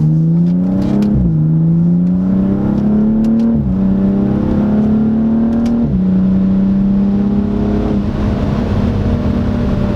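A car accelerates hard under turbo boost, its engine note climbing in pitch through several gear changes, each shift marked by a brief drop before the next rising pull, loud and close with no voices.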